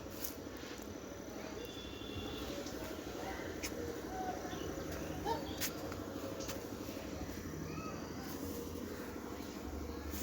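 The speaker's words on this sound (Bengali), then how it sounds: "আমাদের পায়রার খোপ" Pigeons cooing in a pigeon coop make a soft, continuous murmur at moderate distance, with scattered chirps and light clicks over a faint background hum.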